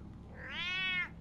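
Cat in Batman: The Telltale Series video game gives a single rising, drawn-out meow, clear and alone against faint background hum.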